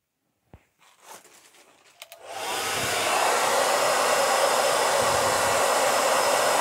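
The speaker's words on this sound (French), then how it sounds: "Je vais prendre le sèche-cheveux et on va sécher la pierre." A hair dryer switched on to dry a stone after a stain-cleaning treatment: a few handling clicks and taps, then a steady, loud, close blowing roar that holds evenly to the end.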